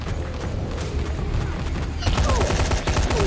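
Rifle fire in the zombie game Dying Light, with a steady rattle of shots that turns into a louder, denser burst of rapid gunfire partway through, with a faint voice underneath.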